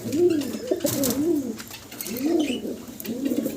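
Pigeons cooing in a caged farm setting, several soft throaty coos rising and falling in repeated phrases, close and fairly loud with no talk.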